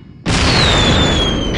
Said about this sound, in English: Бросаю гранату! Fire in the hole!